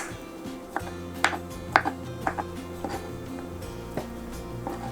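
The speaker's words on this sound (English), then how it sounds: "now I'm gonna go ahead and peel my potatoes. We're just gonna go ahead and chop them up into small cubes." A knife chops peeled potatoes into small cubes on a cutting board, giving a series of crisp, irregular thuds close by, with a steady low hum underneath.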